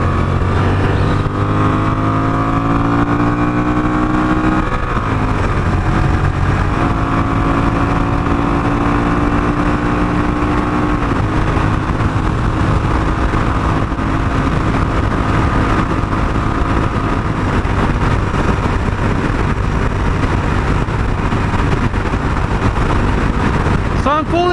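A Honda Rebel 1100 DCT motorcycle runs at full throttle with a loud, sustained engine drone and rising tones as it shifts up, under heavy wind rush, while a rider talks over it.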